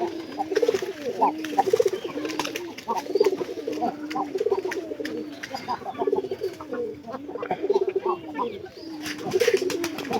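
Pigeons coo in repeated low, rolling phrases that come in steady rhythmic cycles at close range, with occasional scuffling and clicks between them.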